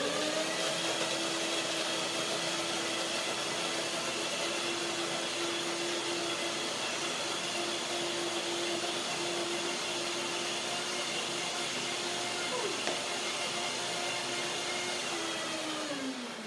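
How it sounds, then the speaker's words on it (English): Blender whirring steadily as it breaks down cashew nuts and dried dates with water, a loud continuous motor drone running unbroken and alone for the whole stretch. "Just a short blending to break the nuts down"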